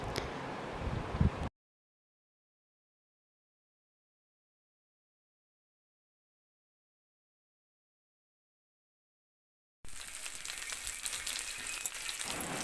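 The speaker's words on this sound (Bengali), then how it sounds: "আর এই তো উলট পালট করে লাল লাল করে ভেজে নিচ্ছে" Tikia patties shallow-frying in a pan on a home kitchen gas stove, a steady sizzle in two stretches separated by a long silent gap, with no voices.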